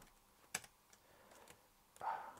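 A few scattered keystrokes on a computer keyboard, used while working with an Agfa ADC 5155 Motorola 68K computer, sound faint and sparse, with one sharper clack and a brief louder burst near the end.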